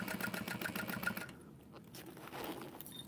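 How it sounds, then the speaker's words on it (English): Sewing machine stitching slowly over the sides of a seam allowance, a fast close mechanical chatter for about a second before easing off into a quieter, softer hum of continued stitching. "as I'm sewing over the sides, I'm going really slow, making sure my foot doesn't get caught on the seam allowance"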